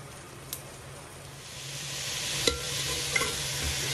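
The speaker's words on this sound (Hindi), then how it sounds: "चिकन मैंने इसमें ऐड कर दिया है, अब ये हमारा चिकन फ्राई होगा अच्छी तरह से" Chicken frying in a pot for chicken pulao, a soft sizzle that swells louder toward the end, broken by a few light clicks of a utensil stirring nearby.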